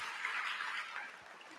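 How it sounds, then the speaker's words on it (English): An audience at a school opening-day event at BOCES applauds, with a diffuse patter of many hands that fades slightly toward the end. "can we give a round of applause to your leadership here at BOCES for putting this on today?"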